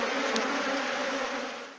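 Bees kept for crop pollination buzz steadily and closely in a continuous, dense drone that eases off slightly toward the end.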